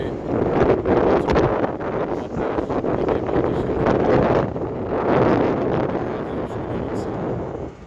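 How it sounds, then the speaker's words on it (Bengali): Strong wind gusting over a river before rain, a loud, steady roar of buffeting noise across the microphone with slight surges and no pauses. "নদীতে খুব বাতাস, আর এর মাঝে হচ্ছে বিদ্যুৎ চমকানো"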